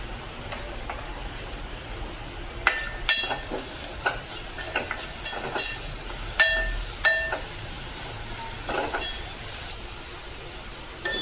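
Onion fries in a pan with a constant soft sizzle, punctuated by a string of sharp clinks and scrapes of a utensil against metal, close and without speech.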